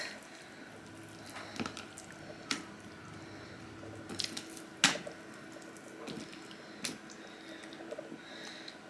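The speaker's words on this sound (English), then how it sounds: "It says to rub the chicken lightly with some drops of lemon juice." Soft wet squishing and light drips come from hands rubbing lemon juice over raw chicken, close and quiet with scattered small splats.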